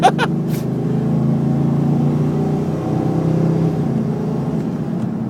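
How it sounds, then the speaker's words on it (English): A 2002 Chevrolet Silverado pickup engine idles with a steady low rumble, loud and close, after a brief clatter at the start. "Really, really solid running truck."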